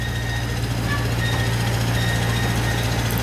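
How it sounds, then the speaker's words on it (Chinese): A mechanically powered tourist train at Formosa Aboriginal Culture Village in Taiwan gives a loud, steady engine drone with a low mechanical hum, heard up close and continuously. "这火车采用机械动力式的，前面还会冒烟。"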